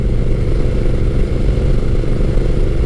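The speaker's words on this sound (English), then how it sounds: "I am currently riding Honda's Rebel 1100T" A Honda Rebel 1100T DCT motorcycle engine gives a steady, loud low rumble while riding, continuous and even with no voices over it.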